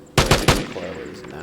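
Three rapid, loud gunshots from a weapon in the video game Vigor, fired in a quick burst and followed by a short decaying tail, with no talk over them.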